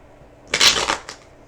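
A quick burst of tarot cards being shuffled, a dense papery riffle lasting about half a second, then a softer final flutter.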